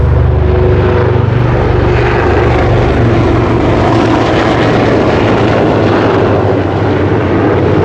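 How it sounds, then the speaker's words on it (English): A helicopter flies overhead, a loud, continuous engine and rotor roar that fills the whole stretch and dominates everything, holding strong from start to finish. "Got a helicopter flying over."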